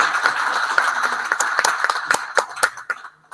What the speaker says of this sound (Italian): un applauso direi